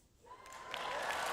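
Crowd applause swells up from near quiet into a building patter of clapping, thin and hesitant at first, then steadier toward the end.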